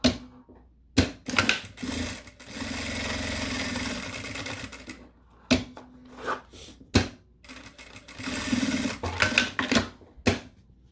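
A sewing machine runs in close bursts while stitching a zippered accordion wallet, rapid needle chatter lasting a second up to several seconds, broken by short pauses and a few clicks and handling noises.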